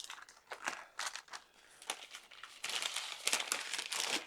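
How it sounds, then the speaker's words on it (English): Smoked chuck roast being unwrapped from its paper after the smoker, giving close, loud crinkling and crumpling bursts that come in irregular handfuls, then turn denser and more continuous toward the end. "Let's unwrap this thing."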